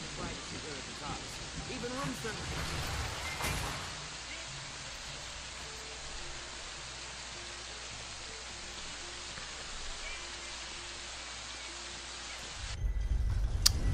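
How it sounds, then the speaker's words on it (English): Steady rain falls in Fallout New Vegas, an even hiss of drops that fills the whole stretch, with a louder, busier patch and some talk near the start before it settles into a constant downpour. "And here's the rain. Oh, the glorious rain."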